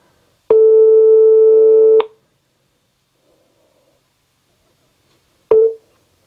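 Telephone ringback tones sound while a call rings through to a phone in France: one steady ring tone of about a second and a half, a silent pause, then the next ring begins before the clip ends. No one speaks.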